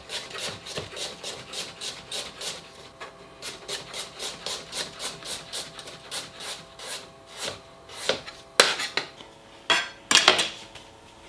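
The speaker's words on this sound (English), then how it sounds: "now I'm going to slice them into really fine chunks" Braeburn apples, already cored, being sliced into fine chunks with a knife, giving a steady run of crisp, evenly spaced cutting taps close by, then a few louder, sharper chops near the end, with no talking.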